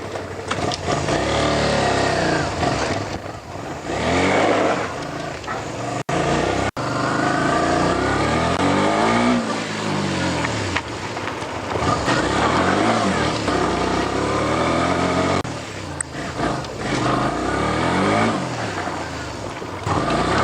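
A Honda VTR250 V-twin motorcycle engine is heard while riding, loud and close, rising and falling through repeated revving accelerations and gear changes with a throaty, continuous drone.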